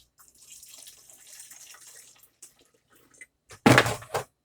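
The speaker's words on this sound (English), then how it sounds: "I'm going to use the vinegar to rinse this out" Vinegar sloshed and rinsed inside a bottle while cooking sweet and sour pork roast: a stretch of soft liquid swishing, then a short burst of louder splashing and pouring close up, with no talking.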